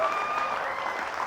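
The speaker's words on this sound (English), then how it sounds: "Give Laura a huge round of applause." Applause from an audience at a comedy show, a dense, even wash of many hands clapping together, sustained and fairly loud for a brief moment with no break.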